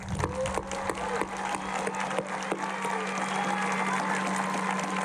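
A large graduation audience in a hall applauds FFA state degree recipients, a dense, sustained wash of clapping with a low steady hum running underneath.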